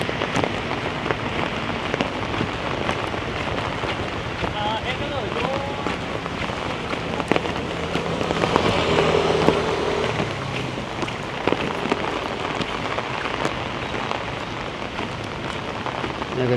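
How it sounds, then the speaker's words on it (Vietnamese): Heavy rain pours steadily without pause in Hanoi after Typhoon Yagi, drumming on surfaces close by, with occasional wind gusts and faint voices mixed in. "Mưa không ngớt"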